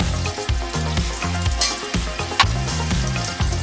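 Mushroom pieces sauté in a pan for a hotel-style mushroom gravy, giving a steady close sizzle with occasional stirring scrapes under a continuous musical background.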